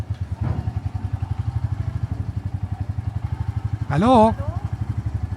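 A Royal Enfield Meteor 350 idles with a steady, close thumping single-cylinder beat while boarding a ferry, and a voice briefly speaks over it.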